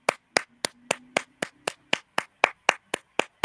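Slow, steady clapping by a single pair of hands, about a dozen sharp, close claps evenly spaced across a few seconds with nothing else heard.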